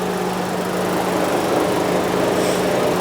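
Engine cooling fan on a Rover 75 with head gasket failure, a steady, dense whirring roar with a low constant hum, running continuously and loud without pause.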